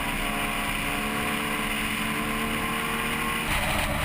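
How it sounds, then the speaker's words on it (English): Vintage MG TC Special race car at speed on a track, its engine a steady loud drone with wind rush throughout, the tone shifting slightly near the end as it passes. "Here we go again with Dan Leonard in this beautiful TC Special"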